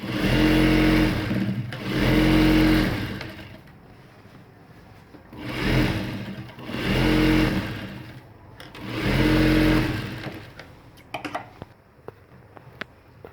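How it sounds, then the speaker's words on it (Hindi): A sewing machine stitching fabric for a ladies' pant runs in three or four bursts of a few seconds each, with pauses between them and a few light ticks near the end. It is close and there is no speech. "अब एक और सिलाई लगाएंगे, थोड़ी सी जगह छोड़कर।"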